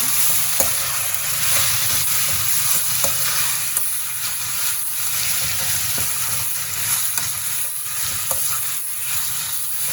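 Bitter budamakaya gravy with tomato, green chilli and onion sizzles steadily in a pan, with a constant frying hiss and occasional soft clicks of stirring, no voices.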